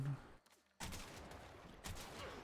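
Gunfire from the Felarx weapon in a video game: a short burst, a brief gap, then sustained loud broadband firing that swells again near the end.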